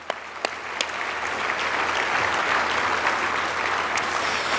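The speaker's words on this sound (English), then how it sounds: "Again, a round of applause for all our heroes this morning." A breakfast crowd honoring local heroes gives a round of applause, starting with a few scattered claps and swelling into steady, sustained clapping across the room.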